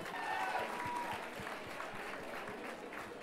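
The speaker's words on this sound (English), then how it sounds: "it should be more of a round of applause for you than anybody else" A crowd at a birthday party fashion show gives a round of applause, continuous but fairly faint clapping heard from a distance with some voices underneath.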